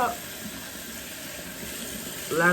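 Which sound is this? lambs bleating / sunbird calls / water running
water running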